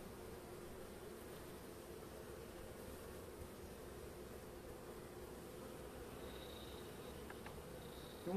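Honey bees buzz as a steady, dense drone around an opened hive full of pollen-laden workers in a Trabzon apiary in winter, continuous and close with no voices.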